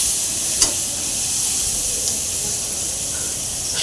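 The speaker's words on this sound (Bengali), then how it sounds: "আর এদিকে কড়াইয়ে এখন পেঁয়াজটা ভেজে" Onions fry in a karai with a steady, close, loud sizzle and hiss, broken by a few brief scrapes as they are stirred.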